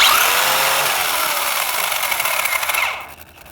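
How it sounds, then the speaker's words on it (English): A Traxxas Slash 4x4 VXL RC car's drive shaft spins under its aftermarket Surpass Hobby motor, a loud high whine with rattling drivetrain that holds steady, then cuts out sharply as it spins down. "in here, the drive shaft is spinning, but then the tire's still spinning afterwards"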